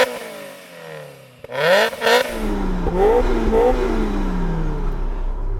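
A Mazda Roadster NC with a centrifugal Rotrex supercharger revs hard, climbing from idle to a loud rising roar, dropping back, then surging again in a second sweep before settling into a steady drone.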